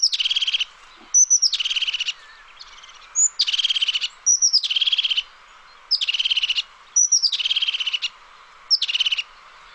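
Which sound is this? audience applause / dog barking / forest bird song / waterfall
forest bird song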